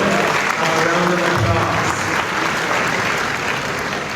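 An audience at a CARICOM heads of government meeting breaks into sustained applause, dense even clapping from a large crowd that holds steady and tapers slightly toward the end.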